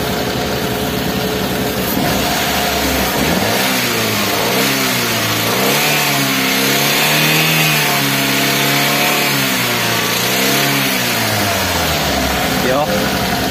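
A Daihatsu Gran Max engine with a fault that makes it hunt at a low idle is revved when the throttle is pressed, rising and falling in loud, rough sweeps with knocking, while someone talks over it.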